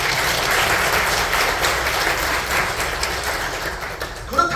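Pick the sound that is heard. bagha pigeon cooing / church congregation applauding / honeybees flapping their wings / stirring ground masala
church congregation applauding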